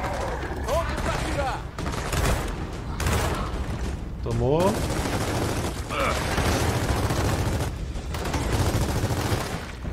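Rapid bursts of video game gunfire in Gears of War 4 with booming impacts crackle through a busy, loud mix, while a voice speaks briefly over the shooting.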